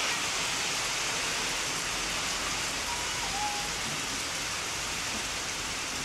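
Rain falls hard during a typhoon with strong wind, giving a dense, constant hiss and rush that stays loud and unbroken throughout.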